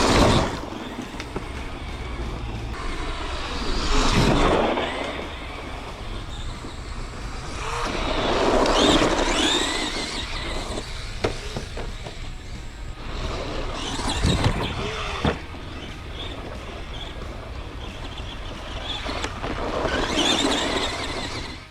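A budget Arrma two-wheel-drive RC truck whines around a dirt track, its small motor surging and fading in repeated bursts as it passes, accelerates and lands jumps.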